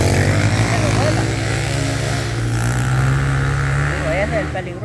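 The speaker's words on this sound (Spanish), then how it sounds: "¿cómo andan con ese gran ruido en las motos?" Loud motorcycles ride past nearby with a continuous droning engine roar that holds steady, then begins to fade toward the end, with voices faintly mixed in.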